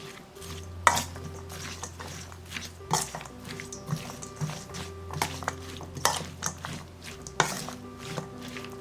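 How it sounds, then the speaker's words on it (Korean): Salted old cucumber being mixed with seasonings in a bowl, giving repeated scraping and clinking stirs with occasional sharper knocks, moderately close and steady with no talking. "골고루 섞어서"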